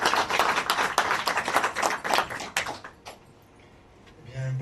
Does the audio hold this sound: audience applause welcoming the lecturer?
yes